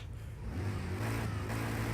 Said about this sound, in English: Ooh, that engine noise